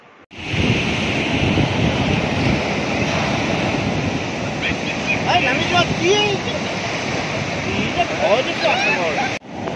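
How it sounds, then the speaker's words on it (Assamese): Evening sea waves of the Bay of Bengal surge and break continuously onto the shore at Mahabalipuram, a loud roaring wash with wind buffeting the microphone and faint voices underneath. "সন্ধিয়াৰ ভাগৰ পানীৰ ঢৌ অলপমান বেছি হয় যেন লাগিছে।"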